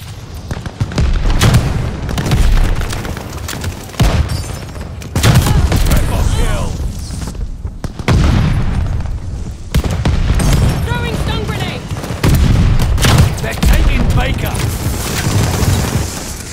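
Grenade blasts and gunfire in Call of Duty: Vanguard Domination multiplayer, loud booming explosions and rattling bursts of shots stacked densely throughout, with in-game voice callouts over the combat.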